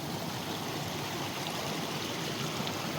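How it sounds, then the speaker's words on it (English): A small mountain creek flows steadily and fairly close, a continuous broadband rush of water with no voices over it. "This is a cool little creek."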